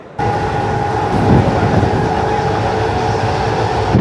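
Steady rumble of a Mumbai fast local train running from Kalyan to CSMT on the Central line, a continuous loud roar with a faint sustained whine and rattling that stays constant throughout.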